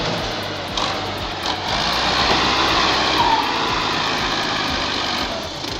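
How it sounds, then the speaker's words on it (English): A skidder machine dragging logs through a forest gives a steady, loud engine drone with a broad rumble and few changes, heard close and alone. "When the terrain is less rugged, a specialized machine called a skidder is deployed."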